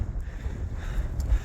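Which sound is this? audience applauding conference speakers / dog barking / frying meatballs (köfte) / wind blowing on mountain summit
wind blowing on mountain summit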